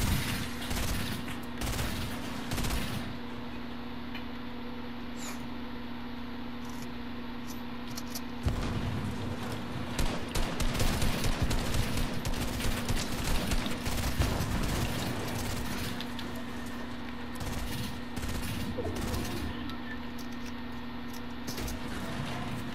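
Rapid video game gunfire rattles in long sustained bursts, dense and mechanical under a steady hum, continuing for the whole stretch with a louder run in the middle.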